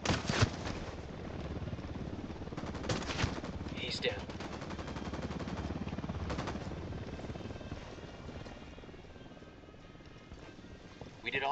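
Gunfire during an ambush in Ghost Recon Wildlands, long continuous bursts of automatic shots with scattered louder blasts and a helicopter-like drone, with voices calling out underneath.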